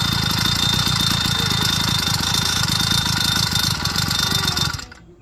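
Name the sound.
OCC chopper YD 100 motorized bike engine idling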